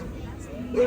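A farm dog barks and yips in an animatronic farm scene on Epcot's Living with the Land boat ride, moderately near and blended under steady narration and background crowd murmur.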